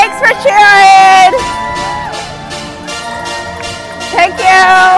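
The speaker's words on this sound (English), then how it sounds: "Lots of cheers out as always." Spectators cheering runners along the course of the Baltimore Half Marathon, with whoops and shouts rising in bursts over a steady crowd murmur, close by and loud.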